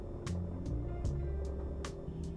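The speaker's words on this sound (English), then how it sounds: "Probably hear the flywheel chattering away." A BMW E39 M5 engine running with a chattering flywheel, a steady low mechanical rumble carrying a repeated rattle, faint, with a few sharp clicks over it.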